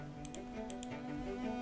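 A few quick computer keyboard keystrokes click faintly over a steady electrical hum in a short, quiet stretch.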